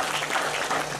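An audience claps to honour a host and his organizing committee at a religious gathering, giving a continuous, moderately loud round of applause that holds steady throughout with no speech over it.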